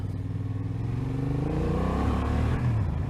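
Motorcycle engine with an electronic throttle running steadily and fairly loud, its note surging and dipping in small on-off pulses as bumps twitch the throttle.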